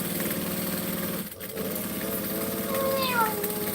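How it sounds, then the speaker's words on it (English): A sewing machine stitches through two layers of vinyl, its steady mechanical hum running continuously and close, with a brief pause partway through before the motor carries on. "So now you can also see that I'm not stitching through 2 layers."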